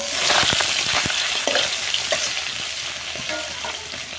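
Small fish seasoned with turmeric fry in hot oil, a loud continuous sizzle punctuated by sharp crackles and pops, close up and without speech.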